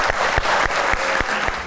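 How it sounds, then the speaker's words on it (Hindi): Studio audience applause on a Pakistani talk show, a steady burst of clapping right after an actress is given a rating, with no voices over it. "तालियां।"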